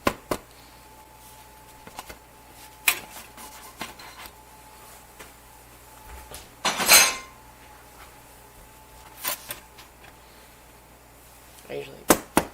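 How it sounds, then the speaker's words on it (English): Metal bread pans holding freshly baked loaves are knocked against a surface to release them, giving a few sharp, separate clanks and thumps spaced across a quiet kitchen, with one louder cluster of knocks near the middle. "I usually whack the side of the pans and"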